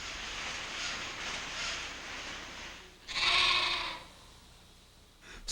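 Sheep bleat on open Scottish grazing land, one clear drawn-out bleat standing out over a steady outdoor rumble, with fainter calls before it.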